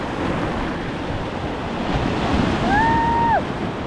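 Sea waves hitting rocks along a shore: a continuous washing surf roar with gusty wind buffeting the microphone, swelling slightly toward the end, with a brief high whistling tone.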